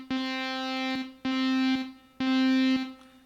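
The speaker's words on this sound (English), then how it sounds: "And this is more of like a spring reverb." Three sustained synth notes played through an amp with spring reverb, each held about a second with a buzzy, harmonically rich tone and a short reverberant tail as each cuts off.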